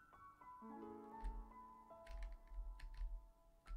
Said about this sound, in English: So if you hear my keys clicking